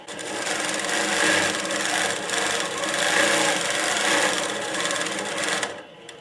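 An INNOVA Longarm Classic quilting machine stitches in a continuous, fairly loud rasping whir that holds steady, then stops just before the end.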